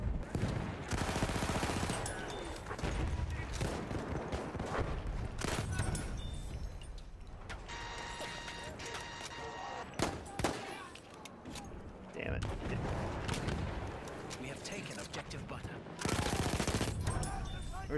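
Sustained automatic gunfire from Battlefield 1 action with an Automatico weapon, loud continuous bursts with brief lulls and distant shots, overlapping speech in places.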